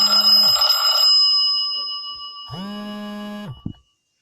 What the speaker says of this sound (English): I just got interrupted by a phone call.